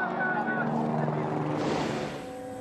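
Helicopter flying over a snowy rally stage in Sweden, a steady rotor and engine drone heard behind a commentator's voice.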